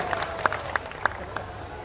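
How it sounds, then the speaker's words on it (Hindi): At a Bageshwar Baba padyatra gathering, an audience breaks into welcoming applause in a brief burst of distinct, sharp claps that thins out quickly, heard fairly close and without speech. "आप भी आ जाए हैं, जोरदार ताली बजा करके स्वागत करें।"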